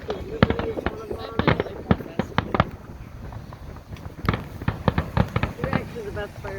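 Fireworks from McHenry's Fiesta Days display in 2021 burst in rapid, repeated booms and crackles at mid distance, with voices of spectators talking throughout the barrage.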